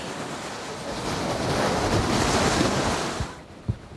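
Waves lapping on Lake Managua in Nicaragua where fishermen work, a steady rushing wash of water with wind noise, ending in a few soft knocks and splashes.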